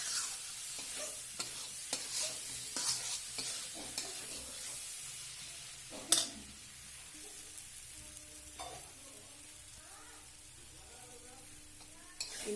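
Chili, turmeric and coriander powder with salt roast in a pan for spicy potato-okra curry, giving a steady sizzling hiss with repeated scraping stir strokes and one sharper clack midway, no voices.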